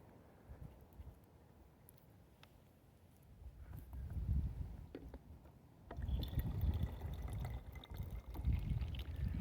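Spring water filtered into a bottle on a trail during an Appalachian Trail thru-hike, a faint trickle and soft squeezing that grows louder in the later seconds, close by, with no talk.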